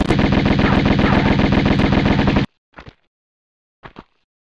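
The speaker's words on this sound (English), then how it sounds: "Now I'd like to shoot you to hell." Gunfire in the video game Tomb Raider, at the Sanctuary of the Scion level: a loud, rapid automatic burst lasting a couple of seconds, then two separate single shots after short pauses.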